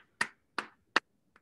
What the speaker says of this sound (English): All righty, everybody, give him another round of applause.